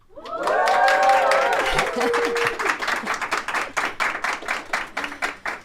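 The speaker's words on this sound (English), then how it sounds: "Give us a cheer, Avanza!" A live audience at Avanza Bank in Stockholm cheers loudly, then breaks into rhythmic clapping that continues steadily to the end, with voices mixed into the crowd noise.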